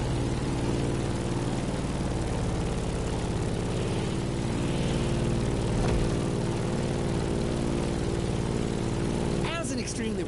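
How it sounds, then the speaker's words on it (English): A Grumman F8F Bearcat propeller plane drones in The Crew Motorfest, a loud steady piston-engine roar throughout, with narration heard over it. "In the cockpit of a stunning Grumman F8F Bearcat"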